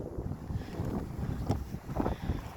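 Wind gusting across the microphone on a coastal clifftop walk between Trevose Head and Porthcothan, low rumbling buffets rising and falling in short bursts, close and fairly strong with no talk.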